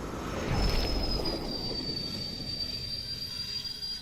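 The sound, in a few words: train passing in a VR video game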